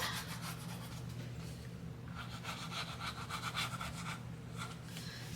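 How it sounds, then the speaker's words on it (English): Paper being burnished down on a Simple Stories Simple Vintage Autumn Breeze scrapbooking project gives close, steady rubbing strokes in a quick repeating rhythm, with no talking. "And burnish it down."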